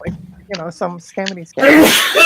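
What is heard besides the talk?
sneeze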